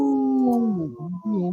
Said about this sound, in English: I got to find the howling wolf